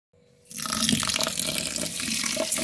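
Tap water runs steadily into a vessel to soak rice and lentils, a close, continuous splashing rush that begins within the first half second and keeps going to the end.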